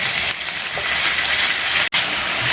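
Chicken pieces added to a pan with onion and ginger garlic paste for white chicken korma, frying with a loud, continuous close sizzle and hiss, broken by a brief stir-like gap.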